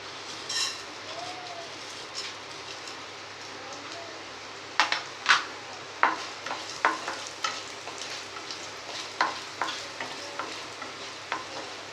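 Coriander seeds dry-roast in a pan over a low flame, with a soft background hiss and a run of light scraping, rattling stirs that grow more frequent midway.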